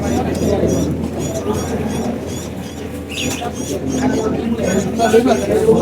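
Pigeons coo repeatedly at the Mollabari pigeon market, soft throaty calls under a busy hum of crowd chatter and nearby talking.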